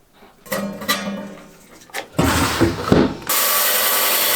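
A Malawi agate is clamped into a vise, with ratcheting clicks and metallic turning of the handle, then scraping and knocking as the stone is seated, followed by a steady loud whir of machinery starting up close by.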